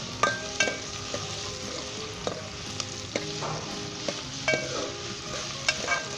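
Onions fry in hot oil toward golden brown, a steady close sizzle broken by repeated metallic clinks and scrapes of a spoon stirring the pan.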